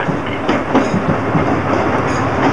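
A Disneyland monorail train runs along its track toward the Disneyland Hotel, a loud, close, steady rumble with rhythmic clickety-clack under continuous wheel noise.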